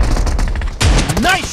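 Shotgun blasts in PUBG (BGMI) team deathmatch, a dense burst of loud gunfire cracking over continuous game noise, followed by a rising whoosh-like sweep.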